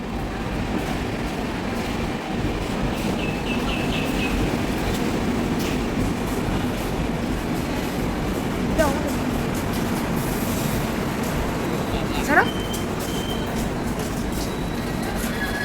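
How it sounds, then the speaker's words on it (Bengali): A Rajdhani train rumbles steadily into a station, a continuous heavy roar with faint clanks and a couple of brief squeals near the end. "এই যে সবেমাত্র ট্রেন ঢুকছে স্টেশনে"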